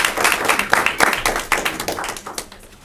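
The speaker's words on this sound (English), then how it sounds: "Everybody give him a round of applause." A small audience at a Bibb County GOP meeting gives a round of applause, individual hand claps clearly separated in a loose, uneven patter that thins out toward the end.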